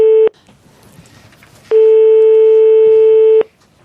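A telephone call being placed, heard as loud, clean electronic ringback tones, one short burst followed by a longer tone of nearly two seconds with quiet gaps between.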